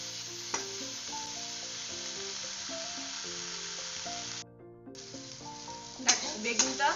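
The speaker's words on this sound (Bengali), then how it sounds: "দিয়ে দিলাম নুন, দিলাম হলুদ, এবারে বেগুনগুলো আমি একটু ভেজে নেব।" Eggplant pieces fry in a pan with salt and turmeric, giving a steady, close sizzle beneath background music and a few louder spattering bursts toward the end.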